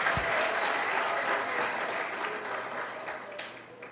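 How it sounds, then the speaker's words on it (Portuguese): Church congregation applauding in praise during an anniversary worship service, a steady dense wash of many hands clapping that carries through the whole stretch, fading slightly toward the end. "Será que você pode dar um aplauso de louvor ao Rei da Glória?"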